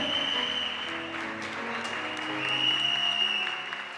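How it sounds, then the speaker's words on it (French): A church congregation claps in steady, sustained applause that fills the room for several seconds, with some voices mixed in beneath the clapping. "Acclame bien."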